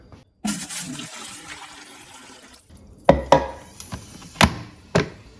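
Water splashes and gurgles as it is poured into a Chefman hot water boiler, followed by several sharp plastic clunks and knocks as the appliance is handled.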